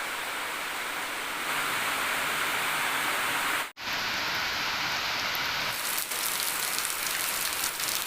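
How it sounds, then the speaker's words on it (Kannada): Heavy rain pours steadily in a dense, even hiss, close and loud, with a brief dropout midway before the downpour continues. "ಓ ಮಳೆ ಬಿರುಸಿನಿಂದ ಬರ್ತಾ ಉಂಟು"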